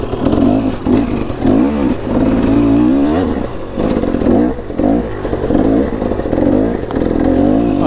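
A KTM motorcycle engine runs nearby, loud and rough, with repeated bursts of revving and throttle blips rising and falling in a steady rhythm, mechanical clatter underneath.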